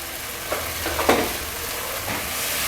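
Spice paste frying over low gas in a pan for a fish-head chhechra made with katla head, a soft continuous sizzle with a few faint stirring knocks and no talking.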